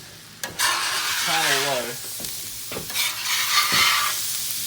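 Garlic for beef fried rice sizzles loudly in oil in a hot pan with a few scraping stirs, while someone speaks briefly over the frying.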